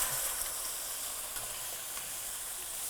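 Turmeric and chili masala frying in a pan, a soft steady sizzle and hiss with faint stirring scrapes, quiet and continuous, with no talk.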